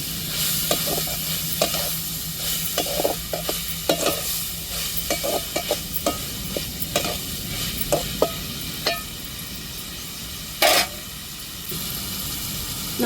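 Dried fish sautéing in a pan with steady sizzling, punctuated by frequent scraping and clacking stirs of a spatula; close and fairly loud, with no talk.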